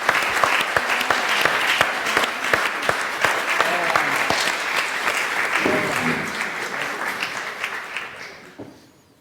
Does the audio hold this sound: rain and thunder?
no